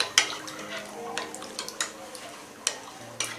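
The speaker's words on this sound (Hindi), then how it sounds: "अब हम इसे मिक्स कर लेंगे।" Pani puri masala water being mixed with a spoon, light clinks and taps against the vessel at irregular intervals, quiet and close.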